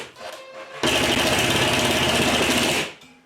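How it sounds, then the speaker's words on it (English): A number 8 wood screw is driven through a bracket into a ceiling anchor with a power driver, giving one loud, steady whirring burst of about two seconds that cuts off abruptly, with quiet shop noise before and after. "I'm just going to screw that up with a number 8 wood screw."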